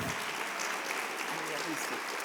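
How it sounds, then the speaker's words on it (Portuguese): Congregation applauding in a church service in Brasília, a dense, even wash of many hands clapping at moderate level, with voices mixed in. "Dá um aplauso para o Senhor."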